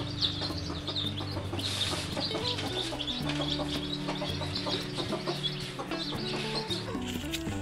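Native black chickens cluck and squawk in a dense, continuous flock chorus close by, several birds calling over one another without pause.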